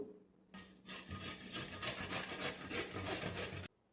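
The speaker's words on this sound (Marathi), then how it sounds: "या किसणीने आपण बटाटा किसून घेऊ" Steady rhythmic rasping of a potato being grated on a medium-sized metal grater, quick repeated strokes scraping for a few seconds, then stopping abruptly.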